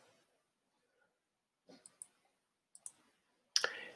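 A few sharp computer mouse clicks in pairs come close and crisp against near silence, followed by a louder clatter at the end.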